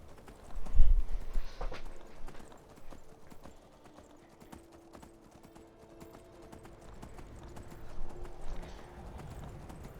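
Horse hooves clip-clopping in the game Skyrim, a steady rhythmic trot heard close, loudest near the start and continuing evenly at moderate volume throughout.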